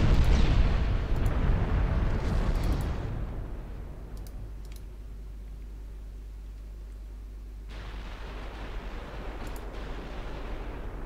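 Naval gunfire in the Ultimate Admiral Dreadnoughts game, a loud rumbling barrage of heavy guns in the opening seconds that fades to quiet, then a second rumble builds later, with a few interface clicks.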